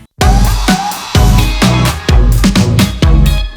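Electro pop chorus built from a flipped city pop sample, with loud punchy beats landing in a steady rhythm of about seven hits over thick sustained synth chords, with no voices.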